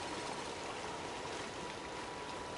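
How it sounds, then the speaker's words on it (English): A waterfall in Mass Effect Legendary Edition rushes as a steady, broad wash of falling water, constant and fairly quiet throughout with no distinct events and no talking. "Look at the waterfall."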